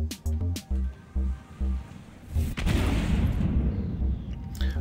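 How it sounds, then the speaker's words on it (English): SAS-1 missile launched from a Drake Caterpillar ship in Star Citizen: a series of short thumping pulses, then a loud roaring whoosh and rumble that sustains to the end. "And we are starting with one SAS-1 missile."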